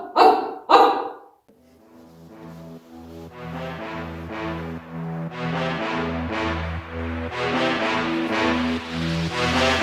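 A dog barks twice, loud and close, in a forest setting, then stops as a steady rhythmic musical background takes over for the rest of the stretch.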